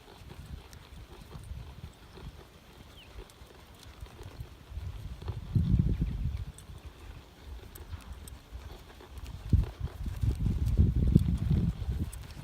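Horse hooves on arena footing as a rider steers and blocks with the legs, soft dull thuds rising in two louder stretches over a low, breezy background with no talk.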